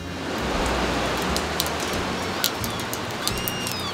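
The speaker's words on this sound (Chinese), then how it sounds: "今天天气比较差，有一点毛毛雨" Light drizzle falls around a seaside hotel in Hakodate, Hokkaido, making a soft, steady hiss with scattered faint drips and taps, continuous and moderately quiet throughout with no voices.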